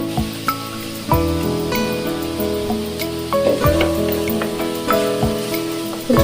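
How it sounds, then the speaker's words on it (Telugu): Onion, tomato and ground masala fry loudly in a pan with a continuous bright sizzle, broken by several stirring scrapes and metallic knocks against the vessel. "ఆనియన్ టమాటా ఇలా బాగా ఎర్రగా ఫ్రై అయిన తర్వాత ఇప్పుడు మిక్సీ పట్టుకున్న మసాలాను కూడా ఇందులో వేసుకోవాలి"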